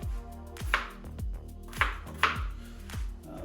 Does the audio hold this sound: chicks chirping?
no